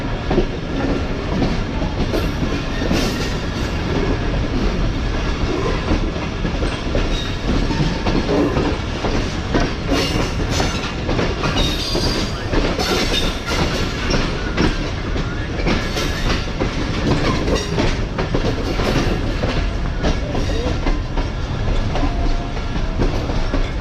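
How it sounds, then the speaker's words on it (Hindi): Tezgam passenger train running into Jhelum, a steady loud rumble with rhythmic clickety-clack of wheels over rail joints and occasional faint squeal, heard from inside a carriage throughout. "फाइनली ट्रेन हमारी झेलम पहुंच चुकी है"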